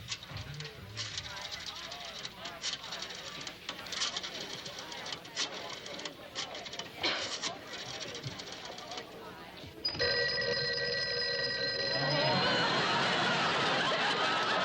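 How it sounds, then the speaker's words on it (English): An old-fashioned telephone bell rings loudly in a domestic setting in a vintage TV comedy, a sustained metallic trill that follows a stretch of background voices and chatter. "there's the phone."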